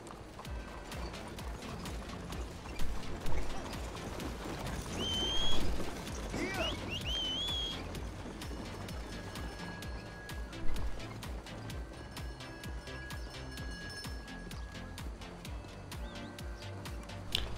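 Horse hooves clip-clopping at a steady walking pace in a video game, with birds and pigeon coos in the background and brief faint voices.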